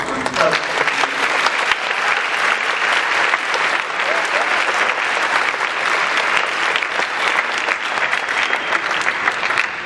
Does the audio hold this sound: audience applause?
yes